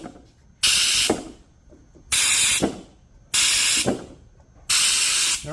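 Sharp hissing bursts repeat four times at a steady pace, loud and close, as a vacuum gauge tests Cadillac 3.0 cylinder heads from the combustion chamber side with the spark plugs left in.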